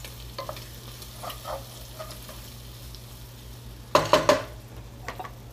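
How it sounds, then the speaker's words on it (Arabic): Shrimp sauté in oil in a pan, a soft steady sizzle with scattered utensil scrapes and a short burst of clattering stirring near the end, with no talking. "الشريمب خلاص شرب كل الميه وكمان هيتشوح خلاص في الزيت اللي كنا حاطينه"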